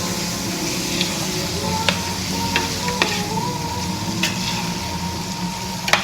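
Tomatoes stirred and frying in a pot for mutton dum biryani, a steady close sizzle with spoon scrapes and clacks at irregular intervals, no talk.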